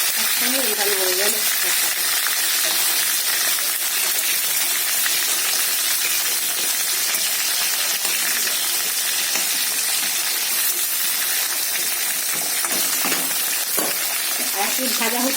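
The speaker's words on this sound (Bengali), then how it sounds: "মাছটা ভাজা হচ্ছে" Pieces of katla fish fry in hot oil in a pan, giving a loud, steady, dense sizzle that holds throughout, with faint voices briefly under it.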